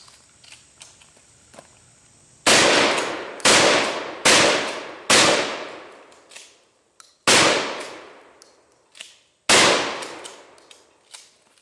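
A short-barrelled Mossberg 500 shotgun firing at targets outdoors, six loud booming shots at irregular intervals, each with a long decaying echo, near and dominant over faint handling sounds.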